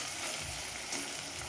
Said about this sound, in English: allow them to saute properly